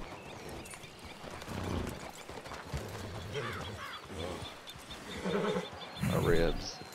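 Hooves clip-clop along with a horse snorting and whinnying as its rider is thrown off, mixed with game sounds and voices in the background of a Wild West roleplay video game.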